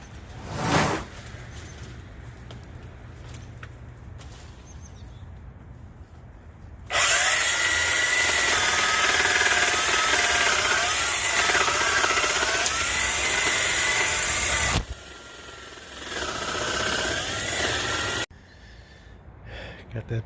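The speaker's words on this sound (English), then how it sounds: "we're going to get the hedge trimmer out, and we're going to get this cut down" A power hedge trimmer buzzes loudly as it cuts back an orange tree in a home orchard, a steady broadband whine running for several seconds, dropping off, then resuming briefly after a quiet gap.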